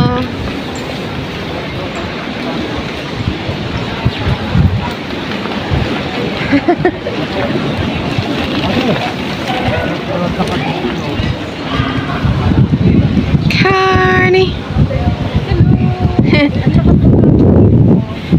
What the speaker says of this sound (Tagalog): Sobra malakas ang hangin.